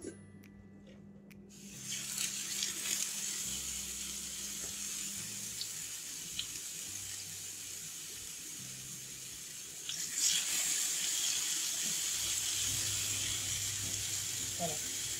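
An escalope for a homemade burger is set straight into a hot pan and fries with a steady hiss that rises after about ten seconds and keeps going.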